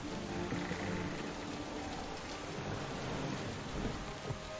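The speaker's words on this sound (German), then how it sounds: "Schön nasses Wetter." A rainy thunderstorm in the video game Last Epoch, with dense steady rainfall and low thunder rumbling throughout, loud and continuous.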